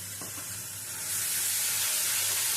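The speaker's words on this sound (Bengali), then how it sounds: "পোস্তটা দিয়ে কষিয়ে নেব আমি" Green chili and poppy seed paste hitting onions in a hot pan sets off a loud, steady sizzle that swells partway through and keeps hissing to the end, with no voices.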